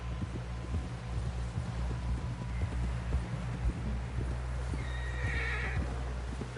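A horse in Red Dead Redemption 2 gallops with rapid, steady hoofbeats close by, and a whinny rises clearly near the end over a low drone of wind.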